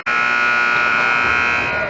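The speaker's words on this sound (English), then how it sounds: "The faceoff's taken, the buzzer sounds" A loud, steady electronic horn blares continuously at the end of the first period of a Cape Cod high school hockey game between Dennis-Yarmouth and Sandwich, filling the rink for nearly two seconds.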